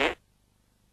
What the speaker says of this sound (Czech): Švachtavý prd.